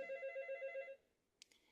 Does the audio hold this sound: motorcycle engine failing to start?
no